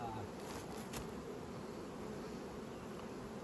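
Honey bees in a dense, steady drone around an opened hive during colony splitting for queen production, a close continuous hum of many insects with no break, quiet overall.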